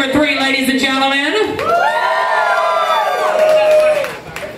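A crowd of women cheers and whoops loudly for a contestant at a wet boxer contest, a sustained burst of shouting and hollering that swells and then trails off near the end.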